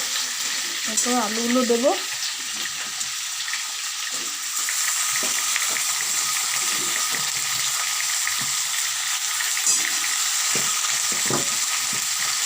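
Oil sizzles steadily in a pan as food fries on a home stove, a constant crackling hiss with faint stirring clicks, while a person speaks briefly at the start.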